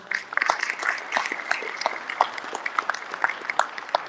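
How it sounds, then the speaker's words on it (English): Scattered applause from an audience at a citywide men's meeting, a moderate crowd clapping steadily and unevenly for a few seconds with a faint voice underneath. "Can we give that round of applause?"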